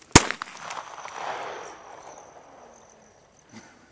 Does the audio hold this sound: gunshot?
yes